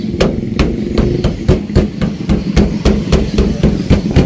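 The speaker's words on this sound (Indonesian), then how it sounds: "coba kita gedor di sininya" Repeated sharp bangs on the body of a locked Toyota Avanza Veloz, about two per second, loud and close, with a faint low hum underneath.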